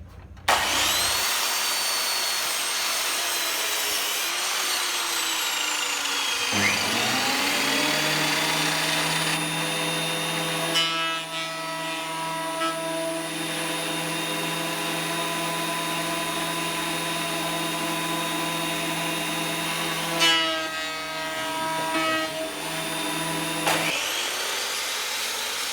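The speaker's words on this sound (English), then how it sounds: "I'm going to have to route some channels to drop in the magnets" A plunge router spins up with a rising whine and cuts magnet channels, holding a loud steady tone with pitch dips as the bit bites, then winding down and restarting, close and without talk.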